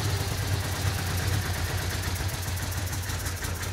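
A Citroën 2CV engine idles unevenly, a low, steady, slightly lumpy rumble that stays close and loud throughout with no voices over it.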